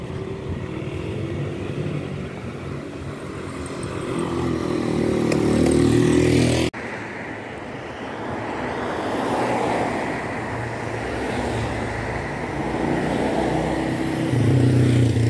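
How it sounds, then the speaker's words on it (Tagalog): Dense street traffic in Lebanon rumbles past continuously, with cars and motorcycles blending into a steady roar that swells at times, and no talk. "Maraming sasakyan dito."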